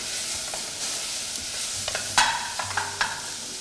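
Tomatoes sizzling in a hot pan for a mopane worm chili sauce, a steady close frying hiss with a few sharp clinks and scrapes of a spoon stirring near the end.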